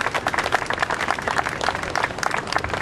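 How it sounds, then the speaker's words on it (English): An audience claps steadily at a political event, with dense, continuous applause from a crowd close by and no speech over it. "So a round of applause for Ms."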